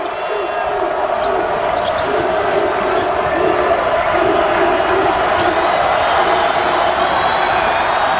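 A steady, loud crowd roar fills the arena at a 2005 Bradley vs ISU college basketball game, unbroken throughout, with a commentator talking over it.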